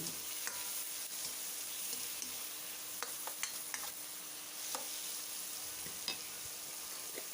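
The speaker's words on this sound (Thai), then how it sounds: "ผัดปลาหมึกกับกระเทียมให้มันเข้ากัน" Squid and garlic stir-fry in a hot pan with a steady loud sizzle, punctuated by occasional scraping taps of a spatula against the pan, close up and without speech.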